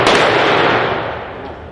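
Gunfire at an indoor shooting range: one loud, close blast fills the clip and decays into a long reverberant rumble, with no voices.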